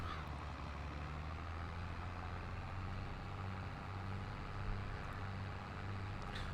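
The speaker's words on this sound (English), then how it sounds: "It's a nice little trailer, a decent tractor with some good torque and good horsepower." A Massey Ferguson tractor hauling an empty trailer in a farming simulation game gives a steady, low, continuous engine drone with a faint even hum, with no talk.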